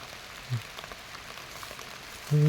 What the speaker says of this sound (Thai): บรรยากาศฝนตกครับพี่น้อง